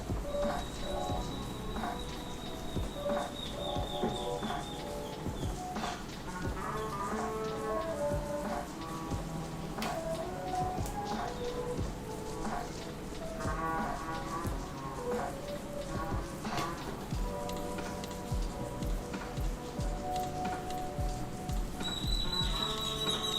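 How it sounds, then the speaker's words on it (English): Rain falls outside in a steady, continuous patter that lasts throughout, with faint scattered background sounds mixed in. "I'm not quite sure if you guys can hear the rain out there, so nice and calming and soothing"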